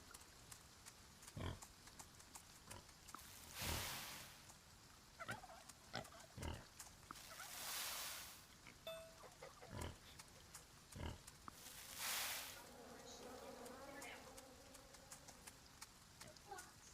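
Pigs on a farm in the video game Farm Together let out scattered grunts and oinks, some short and some drawn-out, spread unevenly over a quiet background. The sounds come through soft and faint, with no clear talk.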